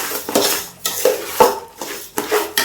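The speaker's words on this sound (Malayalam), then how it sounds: "നമുക്കിതൊന്ന് വറുത്തെടുക്കാം." Rice being fried and stirred in a pan for beef biryani, with four sharp, close metallic scrapes and clinks of a spoon against the pan at a loose rhythm.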